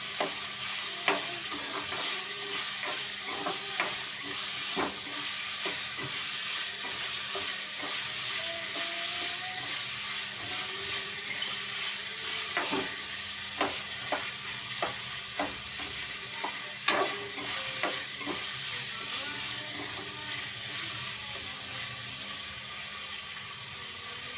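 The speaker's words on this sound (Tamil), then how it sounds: "நல்லா கொஞ்சம் சாஃப்டாக ஆகிற வரைக்கும் நல்லா வதக்குவோம் தக்காளியை." Tomatoes sautéing in a pan for an elephant foot yam curry give a steady, close sizzle, broken by frequent clicks and scrapes of stirring. No voices can be heard.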